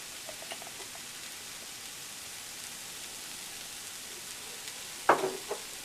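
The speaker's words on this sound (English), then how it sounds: "Sauteing nicely" Vegetables sauté in a pan with a soft, steady sizzle, faint and even, broken near the end by a few brief utensil clinks.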